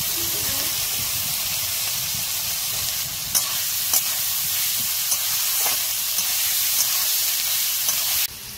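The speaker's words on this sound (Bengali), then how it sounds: "এইগুলো হালকা হালকা ভাজা হয়ে এসেছে।" Chopped capsicum fries in a pan with onions while being stirred, a steady close sizzle with occasional scrape-like clicks of the spatula, ending abruptly quieter.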